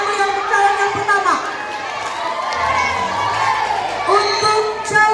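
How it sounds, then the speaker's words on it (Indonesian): A school crowd of students at a student council election cheers and shouts, with children's voices and chatter filling the space in a steady, lively roar that swells near the end. "Beri tepuk tangan yang meriah untuk calon yang pertama."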